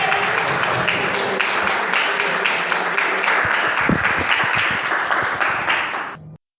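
A church congregation applauds the Lord in sustained, dense clapping that stays loud and even for about six seconds, then cuts off abruptly.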